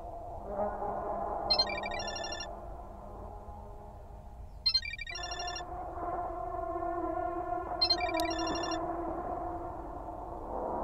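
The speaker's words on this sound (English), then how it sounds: "Asuka's ringtone." A mobile phone ringtone in the horror video game Parasocial plays three repeating electronic chime bursts with echo over a low ambient drone, a tonal melody continuing underneath.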